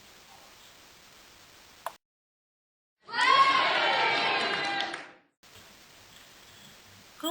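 Primary-school pupils in a classroom applaud and cheer for about two seconds, a dense, bright burst of clapping and young voices in a close room, bracketed by quiet background hiss.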